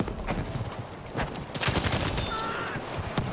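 BAR automatic rifle firing in the World War II shooter Battlefield V, rapid bursts of gunfire with sharp cracks amid battlefield clatter, fairly close and loud with no talk.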